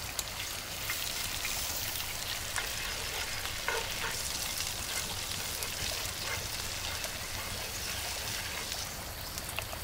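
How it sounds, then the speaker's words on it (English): Butter and a crushed paste hit a hot cast iron pan, giving a steady, bright sizzle that hisses continuously and fairly loudly throughout, with occasional stirring noises. "In a hot cast iron pan, we add the butter and the paste we crushed earlier."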